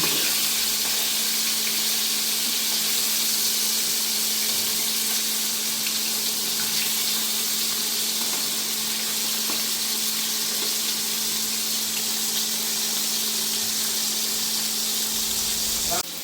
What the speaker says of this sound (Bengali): মাছটা একটু নরম, এই পোমা মাছ স্বাভাবিক সবসময় একটু নরম থাকে, তাই একটু কড়া করে ভাজতে হবে।